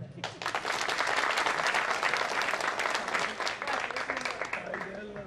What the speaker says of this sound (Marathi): तुम्हाला कंटाळा आला असेल तर एकदा जोरदार टाळ्या द्या